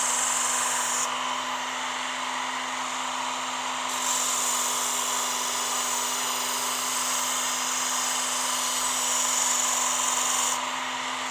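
A Harbor Freight 1x30 belt sander grinding the edge of a Wusthof steak knife, a steady loud high whine with a sustained hum and rasping abrasive contact throughout, no talk.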